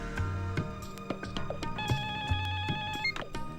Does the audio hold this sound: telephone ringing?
yes